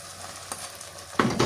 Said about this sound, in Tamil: இதையும் போட்டு நல்லா வதக்கிட்டு இப்போ நாங்கள் பொரிச்ச கத்திரிக்காவை சேர்த்துக்கொள்வோம்